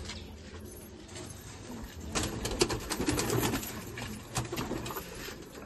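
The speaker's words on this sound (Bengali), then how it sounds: "বিট্টু ভাই তোমাদের বাড়ি একটা আবলুক পায়রা দেখাচ্ছে" A domestic Ablook pigeon, a female among a fancier's collection, gives soft low coos amid faint background shuffling and household noise, fairly quiet and intermittent without speech.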